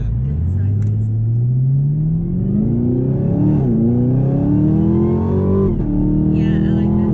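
A Chevrolet Camaro ZL1 engine revs hard through rising gear pulls on a test drive, its loud, steady roar climbing in pitch with brief dips at each shift, while people talk over it inside the car.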